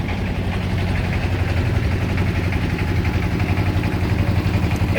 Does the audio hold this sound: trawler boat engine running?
yes